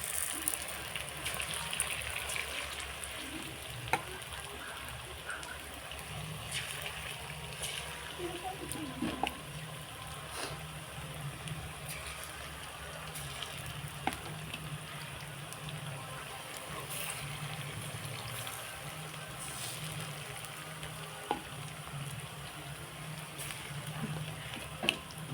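Cabbage pakoras coated in gram flour batter sizzle and crackle in hot oil with a steady, dense hiss and scattered pops, loud and close throughout.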